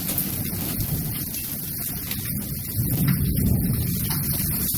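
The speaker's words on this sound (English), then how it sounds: "Coming down so hard, some of the hail is coming in here." Heavy hail and rain pound down during a severe thunderstorm in Lawton, Oklahoma, a dense, loud, continuous hiss with a rumbling low end that swells stronger midway.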